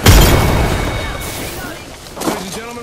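An arc star grenade detonating in Apex Legends, a sharp, loud burst at the start that decays into a crackling rumble, with a second smaller pop later and gameplay sounds around it.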